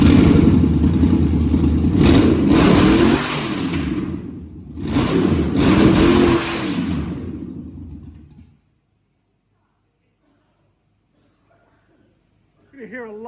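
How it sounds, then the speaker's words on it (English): A lifted Chevrolet Tahoe with headers being free-revved: two loud, snarling engine blips that rise and fall, then the engine cuts off into near silence with a faint voice at the end. "Free rev."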